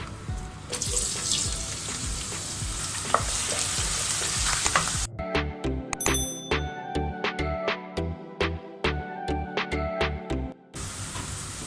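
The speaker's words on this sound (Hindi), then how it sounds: "जब ऑयल गर्म हो जाए तो इसके अंदर हम प्याज डाल देंगे।" Onions crackling and sizzling as they fry in hot oil, then a run of rhythmic scraping clinks from stirring in the pan, with no talking.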